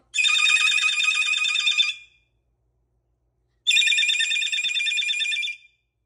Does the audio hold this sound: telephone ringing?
yes